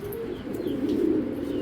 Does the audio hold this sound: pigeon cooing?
yes